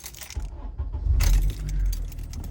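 Car keys jangle close by, then a car engine cranks and catches into a steady idle, fairly loud and with no talk over it.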